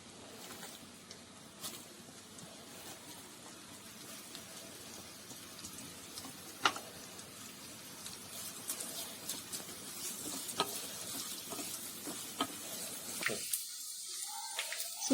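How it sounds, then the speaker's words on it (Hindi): Chopped onions sizzling and crackling in hot oil in a pan, a continuous close fizz with scattered pops that grows busier before cutting off near the end. "अब जो मैंने अनियन चॉप किए थे उसको इसमें डाल दूंगी और अनियन को ब्राउन होने तक फ्राई करूंगी"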